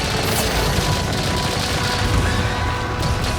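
Dense, sustained gunfire from a machine gun in the Monster Hunter Rise video game, a loud continuous rattle of rapid shots with booming impacts that fill the whole stretch without a break.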